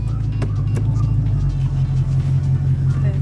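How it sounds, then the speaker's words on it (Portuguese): A Chevrolet Camaro engine runs with a steady low, throbbing rumble close by, while people talk faintly in the car over it. "Tem que ligar o carro"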